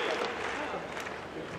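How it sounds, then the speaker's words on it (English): Audience at an inaugural ceremony for an international cultural jamboree clapping together, a dense, steady wash of applause from many hands, fairly loud and close. "Officiation of any program only by using the claps that was taught"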